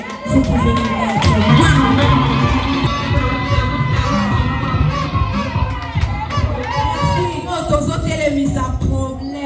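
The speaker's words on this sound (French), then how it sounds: "sous les acclamations du public, vous pouvez vous mettre." A lively crowd at a wedding celebration cheers and shouts loudly, with whoops and high voices over a steady roar and strong low, rhythmic background sound.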